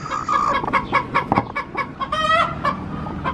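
Several broody hens cluck and chatter at close range in a crowded chicken house on a hot summer day, a busy run of overlapping clucks and short calls with no voices.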